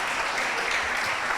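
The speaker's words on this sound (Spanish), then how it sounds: "Puede dar un aplauso a Cristo, puede darle gloria a Dios," A church congregation applauding during a Sunday service, dense continuous clapping at even loudness filling the short moment.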